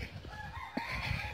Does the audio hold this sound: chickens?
yes